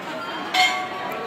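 A single brief metallic clink rings out from temple bells in a room packed with offered bells at a Baba Mahendra Nath shrine in Siwan, Bihar, heard faintly against a steady background hum.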